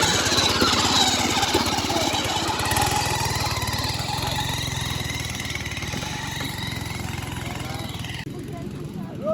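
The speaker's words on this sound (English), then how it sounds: "Powered by a little engine." A small engine drives a Cambodian bamboo train with a loud, steady, rapid mechanical putter and rattle close by, easing slightly before dropping off near the end.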